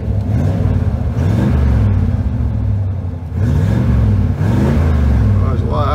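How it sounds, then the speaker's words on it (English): An old vehicle engine revs up from idle, a steady close rumble rising and falling in rhythmic surges, with a brief dip midway before climbing again; a voice speaks over it. "Bring the RPMs up, oil pressure comes up"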